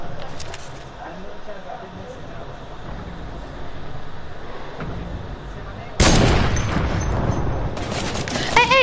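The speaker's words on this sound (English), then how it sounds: "I'm shooting with the sniper." Sniper rifle gunfire in Fortnite, a sharp loud crack at about six seconds with echoing tail, after a stretch of quieter game ambience and a few faint shots.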